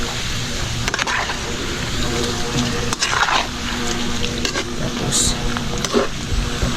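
Food sizzles and bubbles steadily in a pan, a constant crackling hiss with occasional clatters of a utensil, close and fairly loud.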